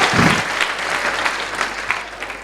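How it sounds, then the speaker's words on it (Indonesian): A church congregation breaks into applause, dense clapping from many hands filling the room at a steady, fairly loud level for a couple of seconds. "ya boleh tepuk tangan"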